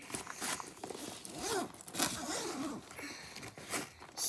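A zipper pulled open on a backpack pocket, a close, scratchy run of several uneven zipping strokes lasting a few seconds.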